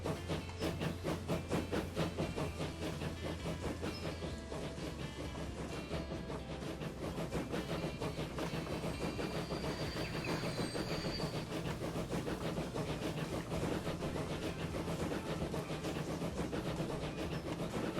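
A locomotive runs in Transport Fever, a steady rolling rumble with rhythmic clickety-clack of wheels on rail joints and a faint hiss, continuous and fairly close, with no talking.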